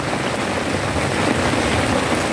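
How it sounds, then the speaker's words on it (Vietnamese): Rain falls outdoors in strong wind, a loud, dense, continuous wash of noise with no clear gaps and no talking. "Đang mưa rồi."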